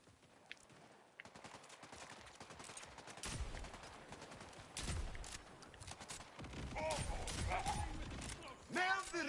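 A shotgun fires in Borderlands 4 during a chaotic firefight: heavy blasts land every couple of seconds over a dense clatter of other gunfire and game noise, with voices talking in between.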